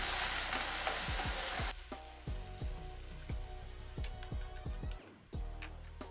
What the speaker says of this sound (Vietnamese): mình sẽ cho cà chua sắt sẵn vào